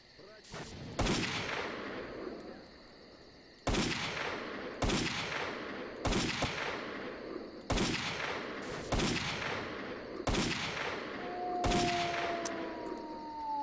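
Gunfire in a S.T.A.L.K.E.R.-style video game: several loud, sharp shots spaced a second or two apart, each with a rumbling tail, in a steady irregular sequence.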